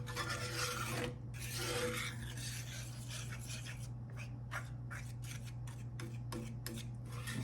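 A utensil stirs breakfast gravy in a hot cast iron skillet, making a quiet, rhythmic rasping scrape against the iron, steady at first and then breaking into short repeated strokes.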